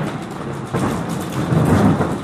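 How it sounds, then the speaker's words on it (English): Loud thunder rolls and rumbles close by over steady pouring rain, swelling in intensity partway through. "Tonight, there is a terrible storm, and it is raining."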